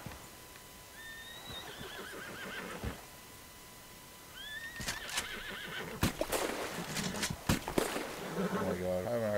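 A horse in the video game Red Dead Redemption 2 neighs twice in high whinnies, with hoof clip-clops and a louder clatter of footfalls and thumps building toward the end, a voice talking briefly over it.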